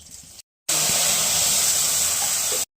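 Nigella seeds sizzling in hot oil for an eggplant dish, a loud steady hiss of frying that bursts in after a short gap and holds evenly for about two seconds.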